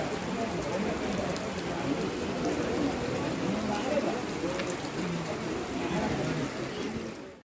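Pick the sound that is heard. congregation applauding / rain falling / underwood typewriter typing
rain falling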